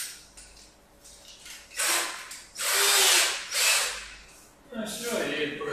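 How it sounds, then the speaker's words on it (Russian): Cordless drill fitted with a wood hole saw cuts a hole near a bathtub installation, whining in several loud bursts of varying length with pauses between, close by, with someone speaking around it. "с помощью шуруповерта и коронки по дереву"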